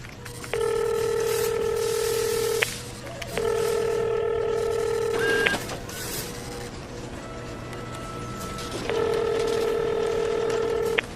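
Outgoing phone call ringing unanswered: three long bursts of a steady, buzzy ringback tone, each about two seconds, separated by pauses, over a faint constant hum, with no voice answering.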